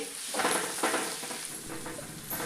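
Brinjal curry vegetables sauté in a pan with a steady, close sizzle, broken by regular scraping stirs throughout, with no talking.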